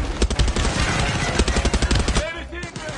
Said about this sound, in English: I've got a gun.